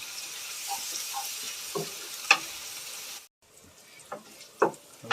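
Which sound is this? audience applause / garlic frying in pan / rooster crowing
garlic frying in pan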